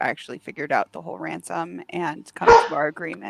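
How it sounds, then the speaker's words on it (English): A dog barks somewhere in the background, one brief bark rising under continuous close conversation. "you can hear the dog in the background"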